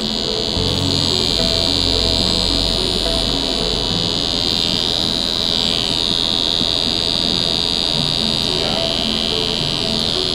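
An EMALLA GRAND wireless tattoo pen runs steadily, giving off a constant high-pitched electric buzz over low background rumble. Faint speech is heard beneath it.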